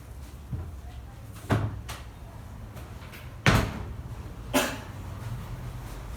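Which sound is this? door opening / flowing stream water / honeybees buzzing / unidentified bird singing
door opening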